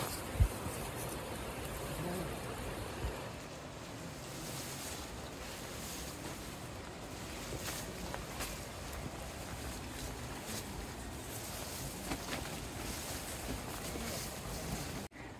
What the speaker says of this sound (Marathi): समोर धबधबा बघा.